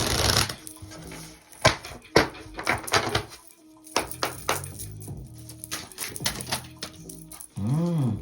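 A deck of oracle cards is shuffled by hand close by, giving sharp riffling bursts and papery slaps in uneven clusters with short pauses between.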